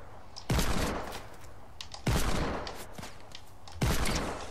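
Sniper fire from a video game, a Desert Eagle pistol fitted with a sniper scope: three loud, close shots land about a second and a half apart, each with a long, decaying tail, and no voices.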